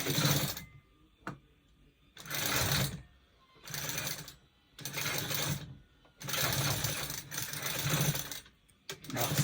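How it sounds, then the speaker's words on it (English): A sewing machine stitches a basic bodice top in four or five bursts of steady whirring, each lasting about a second or two, separated by short quiet pauses for back stitching. "Let's sew this."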